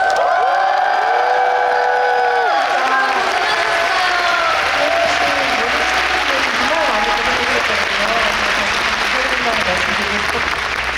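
At a farewell concert, a sustained voice leads into a loud, roaring crowd that applauds, cheers and whoops for the staff, a dense wall of clapping and shouts that fills the hall.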